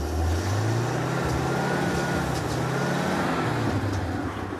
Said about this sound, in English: rev her up